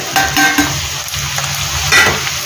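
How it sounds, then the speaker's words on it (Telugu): Sliced onions go into a pan on lowered heat for a potato fry, giving a brief, loud, close sizzle with a few clattering stirs. "ఇప్పుడు స్టవ్ తగ్గించేసి నేను తీసుకున్న ఉల్లిపాయ ముక్కలు వేసేస్తున్నాను"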